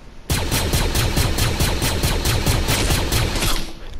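Rapid gunfire in the video game Fortnite, a loud, evenly spaced burst of shots firing continuously for several seconds with no talk over it.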